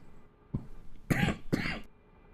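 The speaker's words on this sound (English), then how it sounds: "That's in between coughs." Two or three harsh coughs from a person close by, one short and then two strong bursts, set against a quiet hum of a flight-simulator background.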